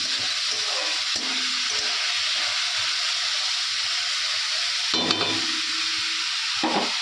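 Vegetables fry in a pan with a steady, close sizzle and hiss. Brief stirring scrapes break through now and then, with no talking.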